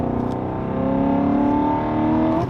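Straight-piped BMW M5 E39 V8 revs up under load, a loud raspy exhaust note climbing steadily in pitch for a couple of seconds before cutting off, close and alone without talking.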